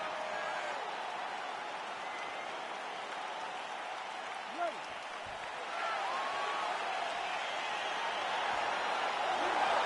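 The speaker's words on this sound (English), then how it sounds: "crowd getting excited as this fight gets underway" Crowd noise in the UFC 4 video game as a fight gets underway, a steady dense roar of cheering that swells slightly partway through, running under a commentator's talk.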